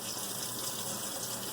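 Tap water runs steadily over a makeup sponge at a sink, a continuous close gushing hiss with no pauses and no voices.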